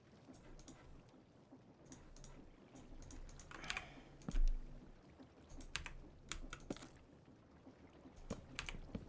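Quiet computer keyboard typing in short irregular bursts of clicks, with one louder thump partway through, set during a modded Minecraft server session; no talking.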